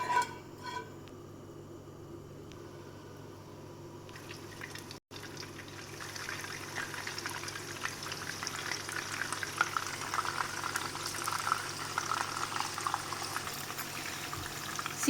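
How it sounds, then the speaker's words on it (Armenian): A steady, close sizzling hiss of oil frying in a pan, growing fuller after a brief pause and continuing evenly to the end. "Յուղը արդեն որ հալվում է, սիրելիներ, կարող եք սկսել տապակել։"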